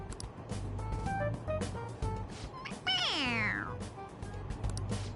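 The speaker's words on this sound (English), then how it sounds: "It meows when you press on its head." A toy cat from Persona 5 Royal meows when its head is pressed, giving one clear, rising-and-falling electronic meow midway through, over low game background noise and muffled sounds.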